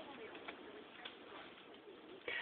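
Soft, repeated cooing from a dove at a window, faint and low in level over a steady background, with a slightly louder burst near the end.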